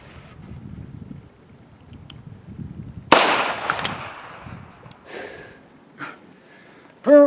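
A Nagant revolver fires a .32 H&R Magnum blank into a jar of fig spread: one sharp, loud bang after quiet rustling, followed by a hissing decay and a few small clatters.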